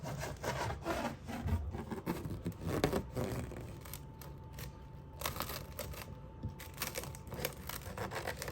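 Transparent plastic wrap crinkles and rubs as it is stretched over a bowl of milk-based puff puff dough, giving a continuous close rustling with scattered sharper crackles.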